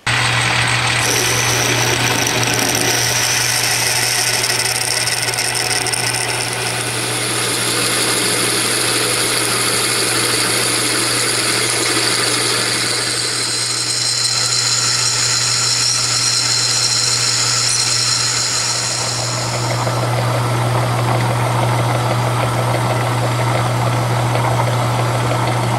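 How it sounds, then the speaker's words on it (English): A steady mechanical whine and hum runs continuously as a hole is drilled in a metal steam engine crosshead, shifting pitch partway through. "Now we're gonna drill a hole in it."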